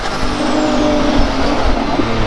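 A UTV engine roars at wide open throttle, a loud sustained close-up drone with steady intensity throughout and a faint whine gliding downward.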